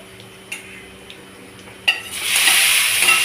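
Kashmiri chilli dropped into a hot pan: a couple of light clinks of a utensil, then a sudden steady sizzle of frying that carries on close and moderately loud.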